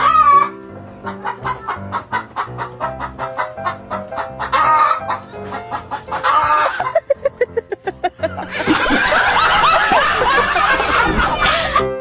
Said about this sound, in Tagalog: Ganito pala mangitlog ang manok.